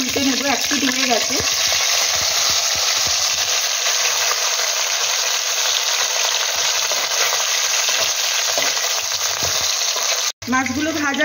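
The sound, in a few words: parshe fish frying in pan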